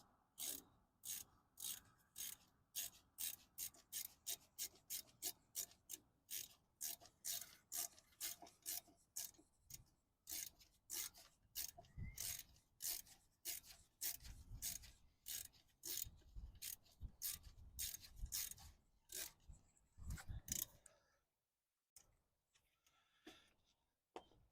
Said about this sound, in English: Taking my 6mm Allen wrench again.